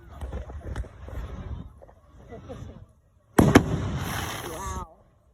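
Fireworks at a backyard firework show go off with a sudden loud bang, then a dense burst of crackling and popping for more than a second, following talk and laughter from people nearby.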